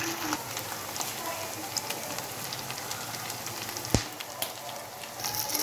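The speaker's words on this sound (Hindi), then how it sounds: "इस तरह हमने दूसरी तरफ से भी फ्राई कर लेने हैं।" Peshawari chapli kebabs fry in a pan with a steady, dense sizzle and scattered pops, close by, with one sharp clack partway through.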